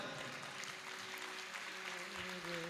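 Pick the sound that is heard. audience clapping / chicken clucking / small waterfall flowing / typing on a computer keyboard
audience clapping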